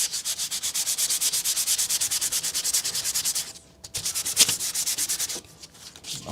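Rapid back-and-forth sandpaper strokes rasp steadily up close on an N scale model railway, pausing briefly, then resuming in a few irregular rubs.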